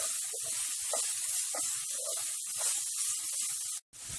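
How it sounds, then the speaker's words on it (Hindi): Chopped onions sautéing in hot oil in a pan for a cluster bean masala, a steady close sizzle and hiss throughout that cuts out briefly near the end. "प्याज को भी अच्छे से सौटे कर लेते हैं।"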